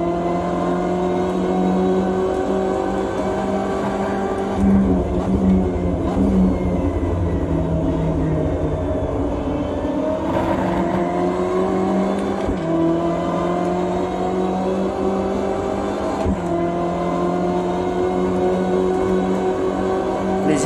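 A BMW M8 GTE race car on the Nordschleife in a racing game, engine droning loudly and steadily with rising pitch sweeps under acceleration and brief shifts, heard from inside the car, with faint talk beneath.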